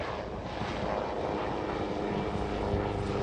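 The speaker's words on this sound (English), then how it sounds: "the blue and yellow helicopters, are they search and rescue or are they police?" A blue and yellow rescue or police helicopter passes over a beach, its engine and rotor making a steady, loud, broad roar throughout.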